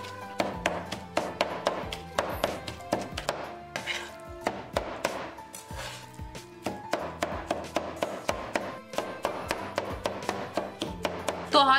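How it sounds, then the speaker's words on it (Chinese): A cleaver rapidly minces meat filling together with chopped scallions on a board, a dense, steady run of close, loud knocking thuds that continues for several seconds. "再准备一些肉馅放在上面，和葱花剁在一起"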